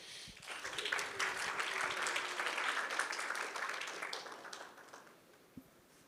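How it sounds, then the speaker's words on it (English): A conference audience at a cryptography developer talk breaks into applause that swells quickly, holds steady for a few seconds, then fades out with a few last claps. "So round of applause for Forrest, please"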